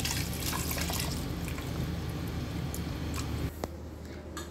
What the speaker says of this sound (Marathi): आता आपण याच्यामध्ये मिक्सरमध्ये जे वाटप केलं होतं त्याच वाटपाचं मी उरलेलं पाणी टाकून घेते।